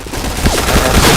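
Dense, loud automatic gunfire from a shooter video game, a rapid continuous burst of shots filling the whole moment with no voice on top.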